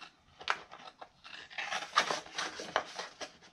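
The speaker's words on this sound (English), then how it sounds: "now I'm going to use my scissors, and this time I'm going to cut right at the line on the inside." Scissors snip through craft material near the microphone, a series of quiet, crisp cuts in an uneven rhythm with no talking.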